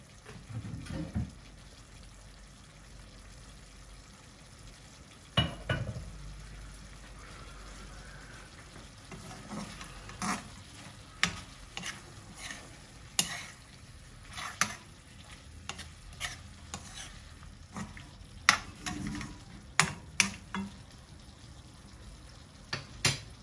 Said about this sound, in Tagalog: Lutuin ko lang yung liver.